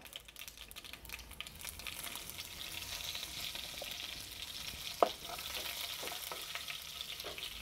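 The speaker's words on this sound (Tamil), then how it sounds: "இப்போ 2 கொத்து கருவேப்பிலை தழை இதோட ஒன்றா சேர்த்துக்கலாங்க" Two sprigs of curry leaves hit hot oil where mustard seeds are already spluttering for an onion thokku, producing a quiet steady sizzle with scattered crackles and one sharp pop, heard up close.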